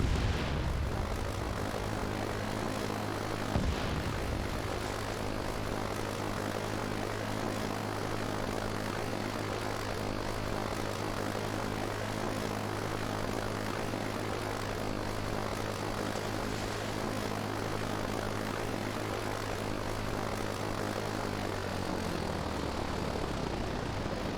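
Propeller airplane engine in a video game flying toward a runway, a steady droning hum with a low tonal whine that holds level and then drops slightly near the end, with no talking.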